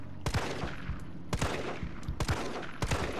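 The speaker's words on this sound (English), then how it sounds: "I'm gonna use my pistol on you." Pistol shots ring out during a boss fight in Resident Evil 3, four sharp, loud cracks spaced roughly a second apart, each with a short ringing tail over a low game backdrop.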